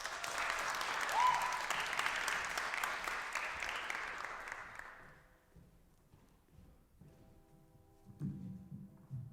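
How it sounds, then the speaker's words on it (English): Audience clapping at a college student talk, loud and sustained for about five seconds before fading into quiet room murmur. "Can I get a round of applause for Shreya Roy?"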